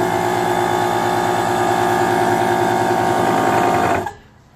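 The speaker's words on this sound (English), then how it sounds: "That's a very noisy air compressor." A noisy DeWalt air compressor runs with a loud, steady, buzzing motor drone that then shuts off abruptly and winds down into quiet.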